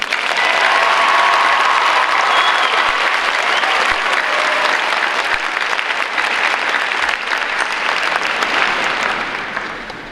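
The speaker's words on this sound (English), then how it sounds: "One more round of applause for Mr. Woodman." Sustained applause from a high school graduation audience honoring Mr. Woodman, a broad wash of many hands clapping for about ten seconds, loud and steady before easing off at the end.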